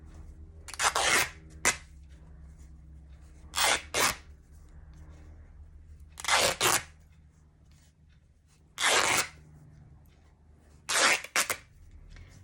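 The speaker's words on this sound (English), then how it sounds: "rip it" Something thin is torn by hand in about six short, sharp ripping bursts separated by pauses of quiet room tone, close and fairly crisp.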